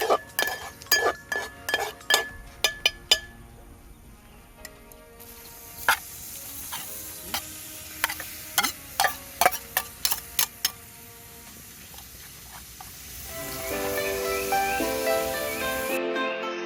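Giant mud crab meat is roasted and stirred in a pan with curry leaves. A spoon clinks sharply and rhythmically against the metal pan, then a soft sizzle of frying fills the rest, close and with no talk.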